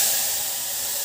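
A pressure cooker cooking Mysore dal lets off a loud, steady, high hissing whistle of steam, continuous for the whole moment with no talking.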